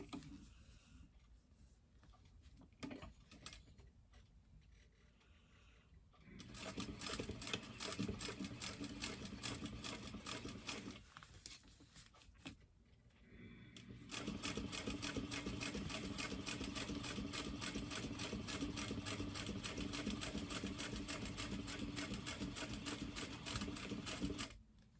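Sewing machine stitching a lined poop bag holder with backstitches at the start and end, a steady rapid mechanical whir in several runs of a few seconds each, broken by short pauses, the final long run steady and close.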